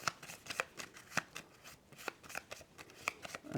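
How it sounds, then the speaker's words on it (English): A small deck of four cards for the solo tabletop game Neon Hope being shuffled by hand, a run of quick crisp riffling snaps and slides at close range, with no talking. "I'm going to give those a shuffle"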